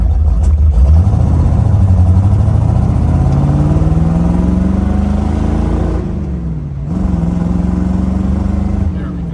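A 1964 Corvette Stingray with a 327 V8 drives on a road, its loud engine pulling up through the gears with a rising drone, a brief dip at a shift, then climbing again.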